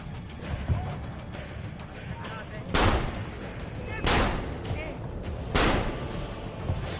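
Gunshots in the video game Assassin's Creed Brotherhood: three loud, sharp blasts spaced about a second and a half apart, standing out over a constant low rumble of game ambience.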